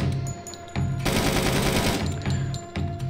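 Sustained bursts of automatic gunfire from the Door Kickers 2 tactical shooter, loud and dense, rattling in long volleys with brief gaps between them.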